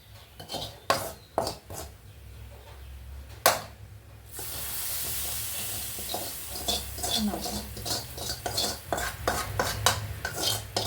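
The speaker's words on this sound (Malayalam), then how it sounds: "താളിച്ചിട്ട് നന്നായി ഇളക്കി ചേർക്കുക" A spoon scrapes and clinks as the tempering is stirred into okra (ladies finger) charu curry in a pan. The strokes are repeated and rhythmic, with a soft sizzle underneath.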